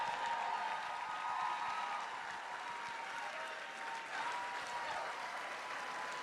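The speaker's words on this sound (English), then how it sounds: "Let's give these guys a round of applause." A crowd at a political rally in Pittsburgh, Pennsylvania applauds steadily for several seconds, the clapping fairly faint and distant, with no talk over it.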